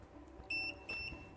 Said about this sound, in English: You know you've clicked the green button properly if the beeping stops.